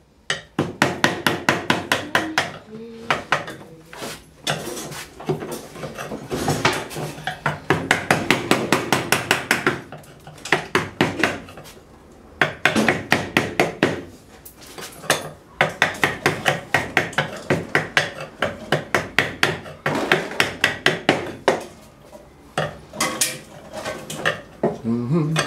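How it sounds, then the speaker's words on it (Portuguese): A light hammer taps repeatedly while a dragging door is being fixed, giving quick sharp metallic knocks in dense bursts separated by short pauses, close and fairly loud. "Tem um martelinho leve."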